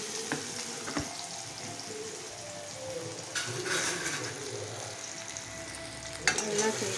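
Finely chopped large onions sauté in a pan, giving a steady close sizzle with occasional scraping and stirring clatter, a sharper knock near the end, and no talking.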